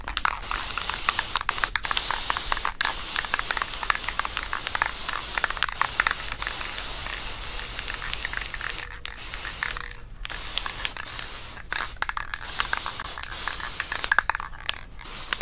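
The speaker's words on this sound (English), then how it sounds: "Now I spray some guide coat on it." A can of flat black spray paint hisses in long loud bursts with brief pauses between, close by, continuous aerosol spraying with small clicks of the nozzle, coating a fiberglass wiper cowl as guide coat.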